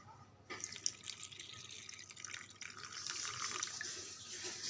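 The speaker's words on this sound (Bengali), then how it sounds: "আর একটু পানি দিয়ে দেব।" Water pours steadily for a child's bath, a soft continuous splashing stream that starts abruptly and runs on alone, faint and close, with no voices.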